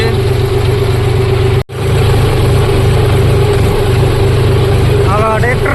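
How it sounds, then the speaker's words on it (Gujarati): A tractor engine runs loudly at a farm field, a constant heavy mechanical drone with one brief cut-out, while a voice seems to speak faintly over it near the end. "હવે બીજું ટ્રેક્ટર આવે છે,"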